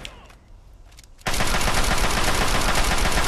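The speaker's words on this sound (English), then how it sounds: "What is this guy shooting at?" Loud, close gunfire in the video game Fallout 3 erupts suddenly after a quiet stretch and continues as a dense, unbroken barrage of rapid shots to the end.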